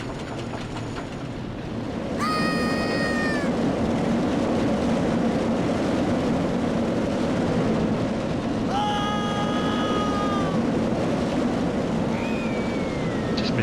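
Monorail ride in RollerCoaster Tycoon 3 gliding past with a steady loud rolling rumble, joined by rising and falling whistling tones near the start and again near the end.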